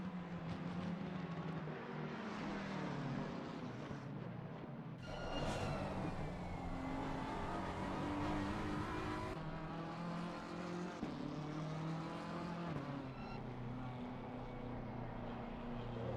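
BMW race car engine in a sim racing game at Spa, a loud sustained engine drone whose pitch rises and falls through gear changes, steady and close throughout.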